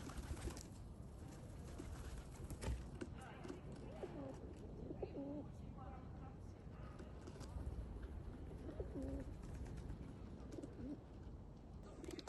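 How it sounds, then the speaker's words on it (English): Pigeons coo in a snowy forest, soft repeated low hoots in short phrases, heard faintly against a hissy outdoor background with scattered rustling and crunching footsteps. "the pigeons cooing"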